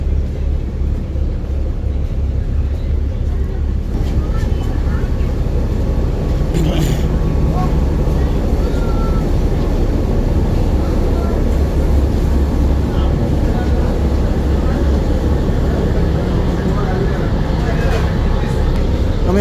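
A passenger launch's engine drones with a loud, steady low rumble and vibration throughout, with onboard ambience and faint voices mixed in.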